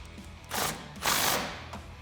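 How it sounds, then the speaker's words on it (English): A 14mm swivel socket on a ratchet tightens an exhaust bolt during a Flowmaster dual exhaust install on a 2016-2020 Tacoma, heard as two short, close ratcheting bursts. "we can tighten up our bolt and the nut with a 14mm socket and wrench."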